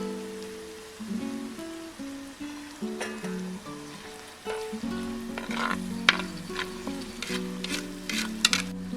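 Onion, ginger and garlic sauté in oil in an uncovered clay pot, with green chilli and curry leaves, for a salmon fish head curry. A steady sizzle with scraping stirs runs beneath a tuneful melodic background.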